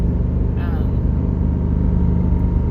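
A 2008 Jeep Grand Cherokee drives on the road, its steady low engine and road rumble heard from inside the cabin, loud and continuous with a brief tonal whine.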